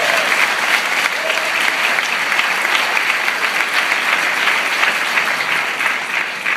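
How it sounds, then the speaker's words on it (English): Large audience at an annual education meeting delivers a big round of applause, a loud, dense and unbroken wash of clapping lasting the whole stretch. "So I want to please give yourselves a huge round of applause for the difference you are making every single day"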